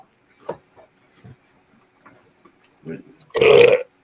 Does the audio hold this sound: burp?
yes